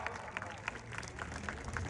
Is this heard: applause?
yes